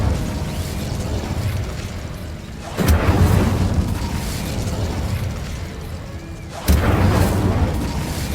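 A spell cast in Hogwarts Legacy erupts as two loud booming bursts over a constant roaring rumble, each blast followed by crackling fiery noise.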